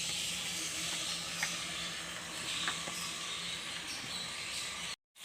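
Mutton pieces hit a little hot oil in a cooking pot for namkeen gosht, giving a steady, close broadband sizzle with a few soft pops that holds throughout before cutting off abruptly at the end.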